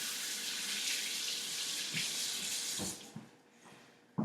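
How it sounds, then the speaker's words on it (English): Tap water runs steadily into a sink as a finger is rinsed under the stream, a loud broad hiss that cuts off near the end, leaving a few drips and a clunk. "I have to rinse my finger off again."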